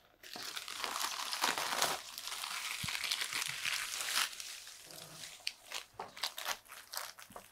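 A recycled plastic shopping bag crinkles and rustles as it is opened and spread flat, in a busy run of crisp crackles that turns into separate sharp crinkles toward the end, close and fairly quiet.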